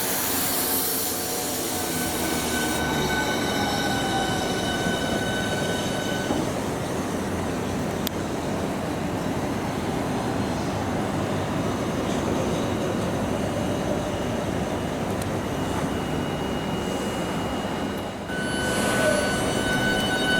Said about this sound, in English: So here's the train leaving from Margate, calling at Ramsgate, Broadstairs and Margate.